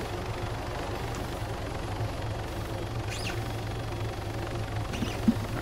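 Steady, droning rotor and engine hum from Apache helicopters in the Arma video game runs throughout at an even level, with faint higher chirps briefly surfacing over the continuous mechanical wash.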